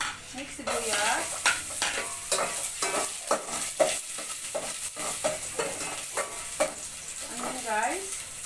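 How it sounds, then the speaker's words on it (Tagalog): Garlic, onion and tomato fry in oil for a Filipino fish soup with pechay: a steady close sizzle with repeated scraping and clattering stirs, and a brief voice near the end. "Mantika, ilagay na natin yung ating bawang"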